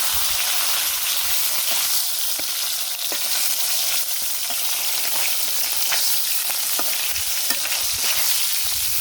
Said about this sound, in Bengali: ভাজি রয়েছে একটু উঠে ভাজিয়ে দিই